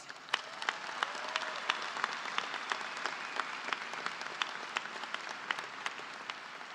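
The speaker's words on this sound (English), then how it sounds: "give them and yourself a huge round of applause" Graduation crowd at the Eastlake High School Class of 2018 commencement claps in a soft, distant spread, with individual sharp claps standing out against the steady patter.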